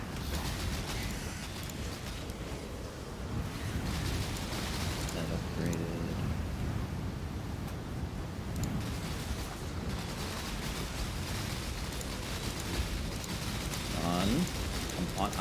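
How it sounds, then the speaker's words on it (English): Rain of Arrows skill effects in Path of Exile on PS4 make a dense, continuous crackling patter of many arrow impacts, with scattered game effect sounds throughout and a player talking over it. "There's a lot of rain of arrows going on over there."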